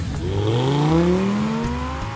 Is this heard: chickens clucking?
no